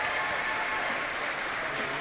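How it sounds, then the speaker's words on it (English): Audience applause for a children's choir at a church Christmas event, a steady dense round of clapping throughout, with someone speaking over it. "one more round of applause for the Decatur Avondale Children's Choir"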